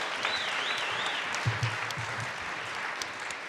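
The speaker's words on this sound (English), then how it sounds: "Please give them an applause while we get our second candidates up." An audience at a college convocation claps steadily, a dense, moderately loud patter of many hands with a faint voice briefly audible beneath it.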